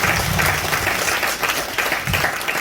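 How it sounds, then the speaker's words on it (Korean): An audience gives warm, sustained applause after a special guest lecture by a former party leader, dense clapping filling the hall at an even level. "대표님께 뜨거운 박수 한번 보내주시죠"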